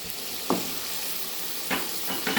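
Dal spices with coriander powder frying in a pan, a bright steady sizzle with a few brief stirring scrapes standing out, close and fairly loud.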